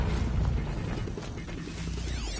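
Robotic machines approaching in the Horizon video game, a loud continuous mechanical clatter of whirring gears and ratcheting, with rising and falling electronic sweeps toward the end and no voices.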